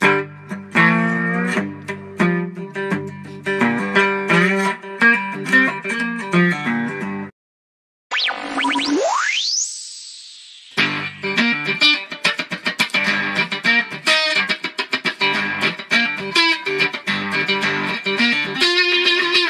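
Electric guitar played through a mid boost effects pedal with a blues tone rings out in plucked notes and chords, broken by a short gap and a rising sweep before playing resumes.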